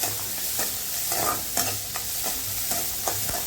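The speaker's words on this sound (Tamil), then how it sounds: "நான் வந்து பெரிய வெங்காயம் தான் கட் பண்ணி போட்டுக்கிட்டேன்" Chopped big onions frying with dried chillies in a pan for a greens dish, giving a continuous close sizzle punctuated by regular scraping clicks of a spoon stirring against the pan, with no voices.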